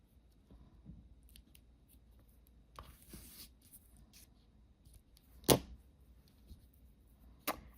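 Scissors trimming the ribbon ends after a double knot on a small Halloween craft tag, giving a few soft snips close by and one sharper louder cut near the end, with no talking.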